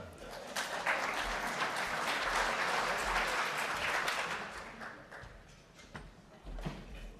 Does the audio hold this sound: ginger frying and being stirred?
no